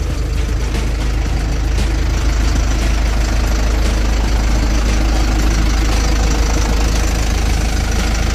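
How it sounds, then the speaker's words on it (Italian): A Renault S135 tipper truck with a 4-cylinder turbo engine idles loudly and steadily up close, a deep rumbling diesel note with a rough, knocking texture throughout. "il motore è un 4 cilindri turbo,"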